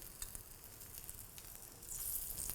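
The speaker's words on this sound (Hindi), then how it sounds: "पूरा गार्लिक वाले घी में सेकना है इसको।" Paratha frying in garlic-flavoured ghee on a covered pan, giving a steady close sizzle and crackle that grows slightly louder near the end.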